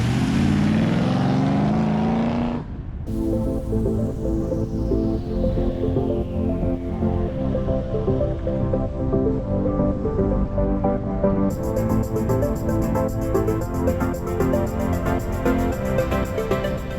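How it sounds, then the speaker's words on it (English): Triumph TR7 V8 driving up a hill among classic cars touring the Cotswolds, a steady droning exhaust note after a brief louder opening, continuous and moderately near. "listening to the note of the exhaust as it drives up the hill, it is obviously a V8"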